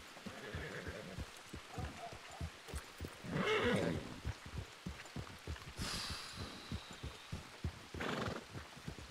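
In a western role-play video game set around a saloon in Strawberry, a horse's rhythmic hoofbeats clop steadily while whinnies and snorts break out a few times, moderately close.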